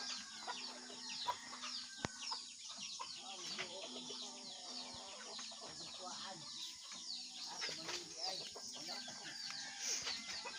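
Chickens cluck and chatter continuously in a busy farmyard, with occasional louder squawks and faint voices in the background.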